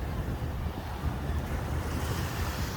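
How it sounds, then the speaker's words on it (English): Sea waves rush and break steadily against the shore, a dense continuous roar mixed with wind buffeting the microphone, fairly loud and close with no voices. "Oh, look at the waves!"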